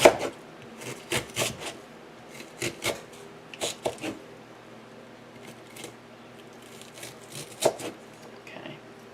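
A knife chops an onion on a cutting board in a home kitchen, a run of quick, close wooden taps in uneven clusters with short pauses between them.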